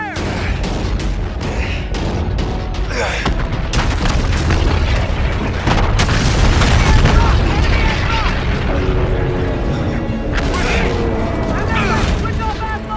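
Relentless naval battle in Call of Duty: Infinite Warfare, with heavy booming explosions and rapid gunfire layered into a dense, loud roar while shouted commands carry over the din.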